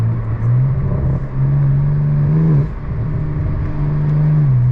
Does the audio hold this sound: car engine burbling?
yes